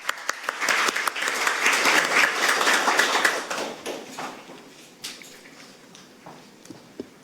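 Audience applause at an emergency medical services policy forum, welcoming the president of the Korean society of emergency medical technicians to the stage: dense clapping swells for about three seconds, then thins into scattered claps and fades.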